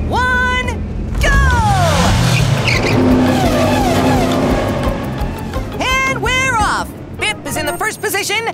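Cartoon race cars rev and roar off the start line, with swooping engine whines and squeals under excited character voices and chatter.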